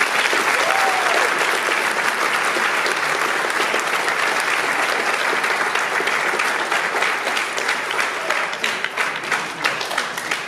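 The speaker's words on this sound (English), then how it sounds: "Please give these students a round of applause." An assembly audience applauds honor roll students with dense, steady clapping that stays loud and unbroken throughout, with no pauses or talking over it.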